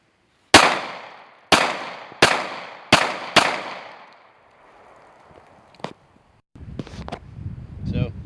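Five sharp 9mm pistol shots ring out close and loud at roughly even intervals, each trailing a short decay, followed by a quieter stretch of faint clicks and handling noise.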